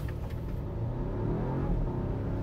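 A Volvo XC60 T6 facelift SUV in power mode accelerates from 0 to 100 km/h, its low engine rumble building steadily and evenly through smooth automatic gear changes, heard from inside the cabin.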